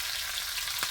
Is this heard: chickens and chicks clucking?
no